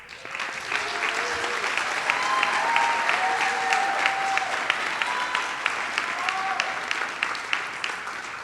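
Sustained applause for graduates at a Drexel University Goodwin College of Professional Studies commencement ceremony, a dense crowd clapping steadily for the whole stretch, with faint cheers and voices mixed in.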